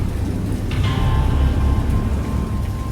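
A storm in a video game: continuous heavy rain with a low, steady rumble of thunder running underneath, dense and loud for the whole stretch, with no voices.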